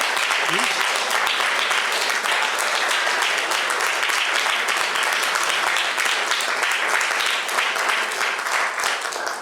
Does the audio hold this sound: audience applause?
yes